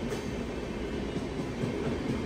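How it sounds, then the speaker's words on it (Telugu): Shatabdi Express on the MGR Chennai Central–Mysore route rushes past platform 2, a loud, steady roar of wheels and rail cars with faint clickety-clack, close by and with no talk. "ఏదో ట్రైన్ కొట్టి పడేస్తుంది ప్లాట్ఫామ్ నెంబర్ 2 నుంచి."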